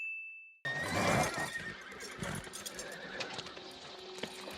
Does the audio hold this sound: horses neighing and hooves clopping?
yes